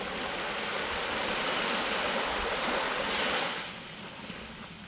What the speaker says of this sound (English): meditate with natural sounds of birds and water